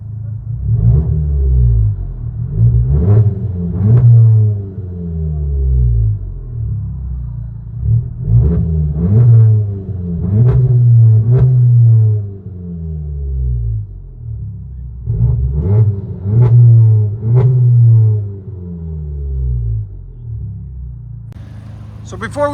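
2020 VW GLI turbo with downpipes and straight pipes heard from inside the cabin, repeated loud exhaust roars rising and falling in pitch across three acceleration pulls, with speech partly over the rumble.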